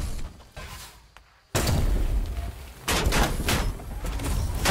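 Heavy gunfire in a mech combat video game, loud bursts of shots and booms filling the scene after a brief quiet stretch, with dense rapid firing continuing to the end.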